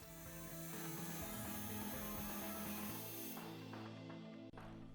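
A steady close grinding rasp works on the wheel axle of a Lesney Matchbox No 60a Morris J2 pickup toy, continuous and fairly loud before easing off at the end.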